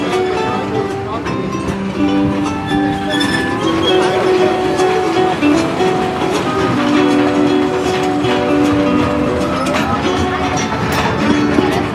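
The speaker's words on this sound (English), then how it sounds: "This 2-mile, 20-minute train ride will take you through a working plantation" Diesel tourist train on a plantation ride in Wahiawa, Hawaii, rumbling steadily with a sustained horn blast, wheels clacking over the rails and people talking over the engine noise.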